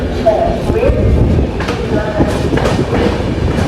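Jan Shatabdi Express train at Meerut Junction, with a steady rumble and clattering of rail cars under light talk in the background.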